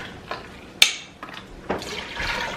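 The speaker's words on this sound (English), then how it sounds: "We're gonna do 2 quarts of chicken stock. Right into the pot." Chicken stock poured into a pot from cartons, short splashy glugs and a sharp clatter, followed by a brief rushing pour, close and fairly loud, with no talk over it.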